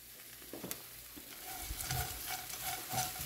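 Anchovies and pumpkin seeds stir-fry together in a pan, giving a steady close sizzle with scattered scraping clinks of stirring throughout.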